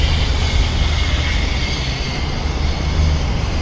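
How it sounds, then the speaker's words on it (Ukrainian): A tram approaches along a city street in Odesa, a steady loud low rumble of wheels and motor that holds throughout, with no voices. "Буде трамвай."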